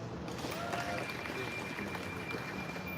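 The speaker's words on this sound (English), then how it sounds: "Every time that I say his name, I need you to clap." An audience at a Mount Vernon police promotional ceremony claps in steady, dense applause that continues evenly throughout, filling the room without pause.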